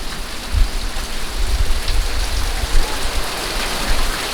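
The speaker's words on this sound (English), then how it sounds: "y'all can see the wind, the rain blowing in front of the camera" Hurricane Laura, a Category 4 storm with 150 mph winds, roars as a steady, loud wash of wind and driving rain. Low gusts buffet the microphone throughout, with no talking.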